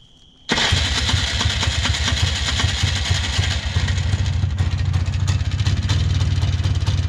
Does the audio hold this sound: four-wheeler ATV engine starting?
yes